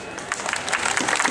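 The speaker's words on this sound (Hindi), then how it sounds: "तालियां तो बहुत जोर से" Clapping from a crowd at a BSNL employee union protest, a dense patter of many hands at moderate volume, steady across the short stretch with no voices standing out.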